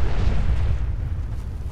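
Explosion in Fallout 4 during swamp exploration in survival mode, a heavy booming roar that is loud at first and slowly tapers into a rumbling tail, with no talking over it.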